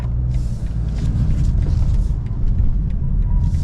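A BMW 520d M Sport LCI diesel sedan with 190 horsepower accelerates hard, a steady loud engine drone and road rumble heard from inside the cabin, with no voices.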